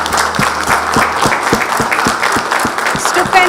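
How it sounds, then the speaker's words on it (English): A room of people at an embassy partnership celebration claps in a big round of applause, close and loud, with a thudding regular beat running beneath the dense clapping. "Guys, let's give them a big round of applause."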